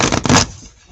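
A deck of tarot cards shuffled close up, a brief loud riffling flutter of cards lasting under half a second before fading to near quiet.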